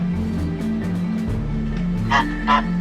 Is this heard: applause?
no